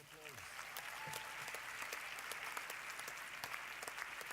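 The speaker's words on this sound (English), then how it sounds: "A round of applause." A conference audience at a youth forum in Doha applauds, sustained clapping from a large room heard at a distance and fairly quiet, with a voice briefly audible at the start.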